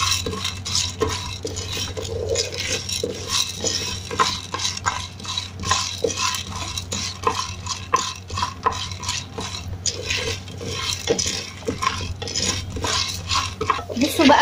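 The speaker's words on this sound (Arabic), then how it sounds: "هغطي عليه وكل شوية هحركه بقى بالحلة علشان ما يتحرق" A pot of popcorn kernels on a stove is stirred and shaken over and over, with repeated metallic scraping and rattling in an irregular rhythm and a low steady hum underneath.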